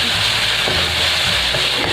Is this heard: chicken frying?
yes